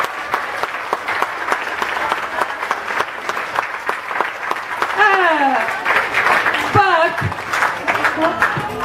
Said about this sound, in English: Can we give Mr. File a great big clap?